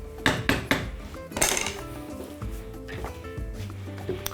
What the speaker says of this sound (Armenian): ծածկում ենք կափարիչով